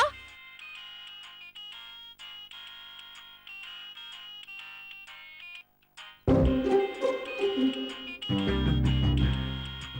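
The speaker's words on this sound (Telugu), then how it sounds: "అక్షర, నీకు ఫోన్ వస్తుంది." A bright, melodic phone ringtone repeats its chiming notes for several seconds, then fuller, louder music swells in.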